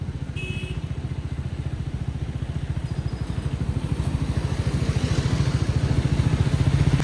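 A motorcycle-like vehicle engine runs steadily with a fast, even low throb that grows slightly louder toward the end, close by and alone, with a brief high tone early on.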